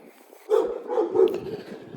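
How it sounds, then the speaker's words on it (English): Dogs bark several times in quick succession from a short distance, loud muffled woofs heard outdoors while someone walks past. "These dogs go crazy over here every time I walk by"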